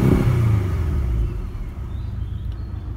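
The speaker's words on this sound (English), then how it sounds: "that's from a 2-liter turbocharged engine" A Porsche 718 Cayman's 2-liter turbocharged engine revs up with a deep rumble and falls back, then settles into a steady lower growl.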